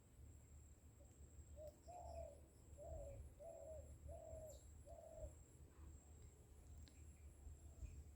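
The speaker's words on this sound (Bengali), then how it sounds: "পাখির কুহু কুহু শব্দ" Out in green rural countryside, a bird gives a soft cooing call repeated five times in an even rhythm, faint and somewhat distant, over a low steady background hum.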